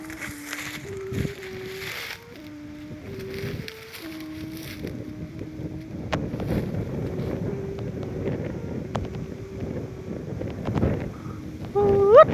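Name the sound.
wind blowing during kite flying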